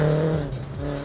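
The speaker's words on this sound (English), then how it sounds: "having tons of fun sliding his BMW around" BMW rally car sliding on a rally stage, its engine holding a steady loud note that dips and wavers briefly, heard close and alone.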